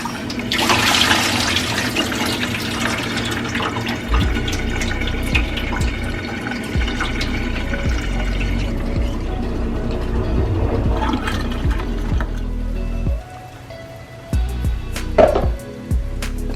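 Collard greens are washed in a sink of water, with continuous sloshing, splashing and running water that stays steady and fairly loud, then breaks into a few drips and clatters near the end.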